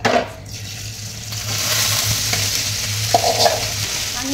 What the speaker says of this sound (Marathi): जिरं चांगलं तेलामध्ये तडतडलं